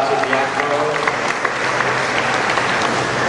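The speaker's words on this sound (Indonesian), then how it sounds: "Kita beri tepuk tangan untuk Bapak Subiakto" Audience applause at a university graduation ceremony, steady dense clapping filling the hall, with faint voices and tonal sound beneath it.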